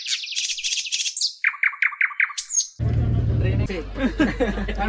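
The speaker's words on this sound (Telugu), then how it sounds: "పిట్టల్ని వీడియో తీస్తూ ఉంటాడు." Small birds chirp and tweet in quick repeated bursts at first, then a busy train-carriage hubbub with low rumble and murmuring voices takes over, with chirps still faintly mixed in.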